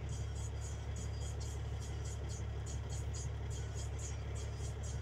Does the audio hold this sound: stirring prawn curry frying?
no